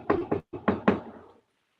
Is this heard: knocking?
yes